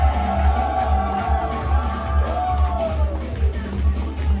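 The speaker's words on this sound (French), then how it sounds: "Est-ce que tu peux pousser des cris de victoire" A church congregation at a special family service shouts and yells cries of victory, the voices blending over loud, steady music with a pulsing low beat.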